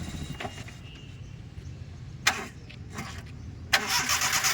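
A car reversing slowly during a driving lesson, a low steady engine idle with a couple of brief louder surges, heard from inside with no talking.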